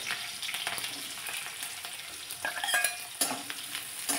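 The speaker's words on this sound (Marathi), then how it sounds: "लगेचच यामध्ये हिरवी मिरची घालायची" Green chillies frying in a pan for kanda poha, a close steady sizzle with scraping stirs and a few sharper crackles near the end.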